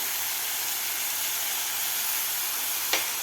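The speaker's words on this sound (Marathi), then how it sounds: "परत आपल्याला हे कांदा दोन मिनिट परतून घ्यायचा आहे आलं लसूण पेस्ट बरोबर" Onion sautés with fresh ginger-garlic paste and asafoetida in a pan, a steady close hiss and sizzle throughout with one faint tap near the end.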